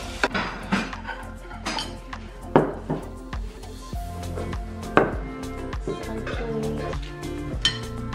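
Porcelain dishes clink and knock against each other in a dining room. The sharp, scattered taps come close and fairly loud, with a few heavier thuds over eight seconds and no speech.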